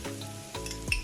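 A chickpea mixture with ginger and garlic sizzles in a pan while a utensil stirs it, giving brief scraping sweeps over the steady frying hiss.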